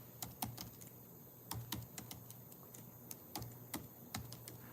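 Someone types on a computer keyboard, entering a state and zip code into a form: irregular bursts of sharp key clicks with short pauses between, close by, with no voices.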